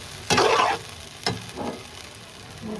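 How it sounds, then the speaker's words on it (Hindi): Potato and arrowroot mixture being fried and stirred in a pan, with two short bursts of sizzling and scraping, a quieter stir between them, and low kitchen background. "अब इसे अच्छे से भून लेते हैं थोड़ा सा।"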